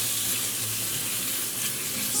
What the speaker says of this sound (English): you want to sear those shrimp until they're nice and pink